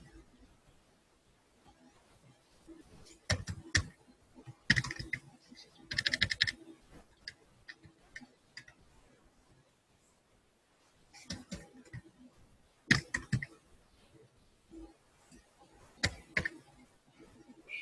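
Computer mouse clicks come in short sparse bursts separated by quiet gaps, close and fairly crisp, with no talk over them.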